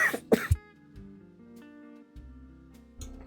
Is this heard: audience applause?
no